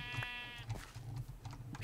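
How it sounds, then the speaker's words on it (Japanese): Minecraft sheep give a short, nasal in-game bleat, followed by faint blocky footsteps and small game noises at low volume, with no talk. "羊さんちょっと歩きにくそうですね"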